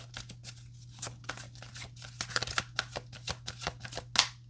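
Tarot cards are shuffled by hand, a quick run of crisp papery riffles and taps in uneven rhythm, close and fairly quiet over a low steady hum.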